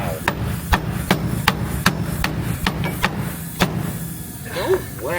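Hammer blows on a pogo-stick dent puller used to pull out a BMW E36 car body panel before a paint job, about ten sharp close metallic strikes in a steady rhythm over a low hum, with brief voices near the end.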